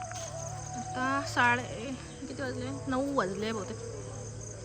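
Crickets chirp at night outside a haveli, a steady high trill that runs through the whole stretch. People talk close by over the constant chorus.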